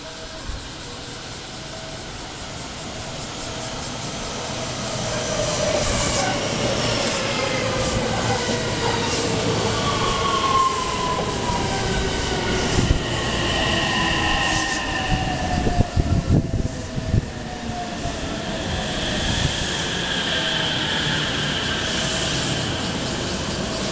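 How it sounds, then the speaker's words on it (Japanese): A JR West 223 or 225 series train rolls into a station platform with a steady rumble and rising wheel noise, brakes screeching in drawn-out tones as it slows, with rattling clatter in the middle. "2番乗り場に電車が参ります。"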